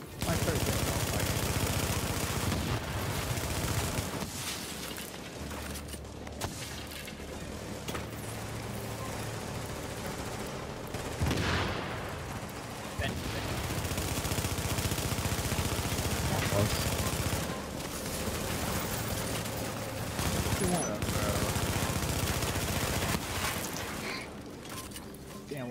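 Rapid bursts of turret machine-gun fire in the video game Tomato Team: Rogue Chronicles, loud and repeated with short pauses between volleys, mixed with explosions and game effects.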